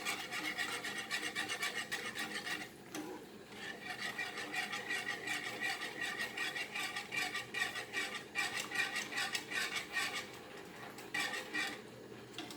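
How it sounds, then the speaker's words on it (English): Curd for a thick kadhi with roasted peanuts and chickpea flour being stirred continuously in a pot, a close, steady scraping and rubbing rhythm of a spoon against the pan. "Stirring continuously curd helps it nicely to get cooked."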